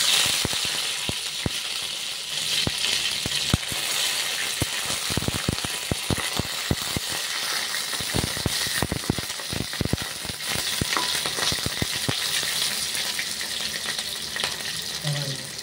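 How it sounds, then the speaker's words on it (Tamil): Curry leaves fry in hot oil for a vegetable poriyal, giving a steady close sizzle broken by many sharp crackles and pops, with occasional scraping of a spoon against the pan. "இப்போ கருவேப்பிலை போட்டுக்கலாம்"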